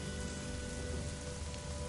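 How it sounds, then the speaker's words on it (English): Steady rain falls across a video game title screen, a dense even hiss of drops with no breaks, loud and close, with no voices over it. "it's raining in the title screen"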